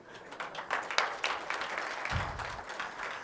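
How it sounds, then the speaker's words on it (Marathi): An audience at a farmers' meeting on turmeric and ginger cultivation breaks into brisk, dense clapping that carries on evenly for a few seconds, fairly close and with no talk over it. "आता वाजवायच्या टाळ्या वाजवा"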